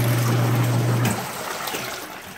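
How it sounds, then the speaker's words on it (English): A Costway twin-tub washing machine's agitator churns water in a steady, loud sloshing rush. A low motor hum runs underneath for the first second, then cuts out while the water noise continues. "And the agitator, it agitates almost better than a household wash machine."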